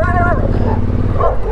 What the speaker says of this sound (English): the whole neighborhood of dogs is coming for us now